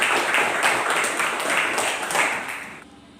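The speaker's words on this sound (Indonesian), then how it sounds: "Silakan tepuk tangan" A classroom of students claps together after a lesson, a steady wash of hand claps that fills most of the moment and then cuts off near the end.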